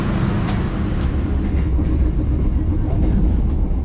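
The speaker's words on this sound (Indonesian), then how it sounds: "kereta api Airlangga tiba di stasiun Bekasi ya" The Airlangga passenger train rumbles into Bekasi station, Indonesia, a deep, continuous roar with some squealing at its start.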